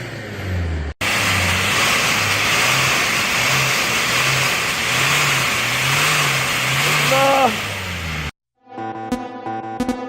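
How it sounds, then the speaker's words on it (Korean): A car engine is revved hard during an emissions check at a vehicle inspection, roaring close and loud, rising in pitch toward a peak, then cutting off abruptly before a brief tonal sound. "매연 체크 한번 해볼 테니까 엑셀링 한번 해주세요"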